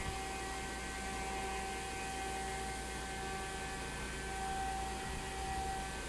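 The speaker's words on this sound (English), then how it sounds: "is the discharge air from our aeration blowers, blowing all the air into our aeration tanks" A steady, unbroken tonal hum of aeration blower discharge air pushing through a pipe toward aeration tanks at a water recovery plant, loud and constant with a broad airy hiss beneath.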